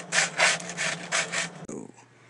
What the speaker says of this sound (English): you want to make sure you sand every single part of the birdhouse